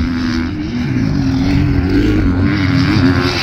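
Motocross dirt bikes riding past at Mesquite MX park during amateur national warm-ups, a loud, steady engine drone that swells and holds as the bikes pass close by, with no talk over it.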